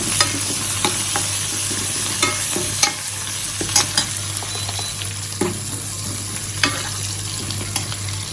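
Chopped shallots and curry leaves crackle and sizzle continuously in hot oil for bitter gourd curry, close up, with scattered clicks of a spoon stirring over a low steady hum and no talk.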